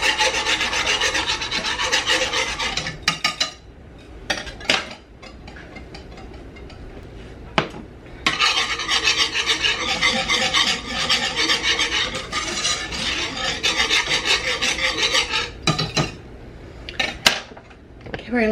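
A metal utensil scraping a cooking pan while chicken and gravy cooks, a loud continuous rasping scrape with short pauses and a few sharp clinks, close up.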